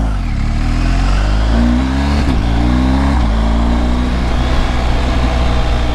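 A motorcycle pulls away quickly from a blind corner, its engine rising in pitch as it accelerates, loud and close with a steady roar and no talk.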